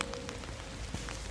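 Rain patters steadily on a small personal umbrella, a close, dense drumming of drops at low level with no talking.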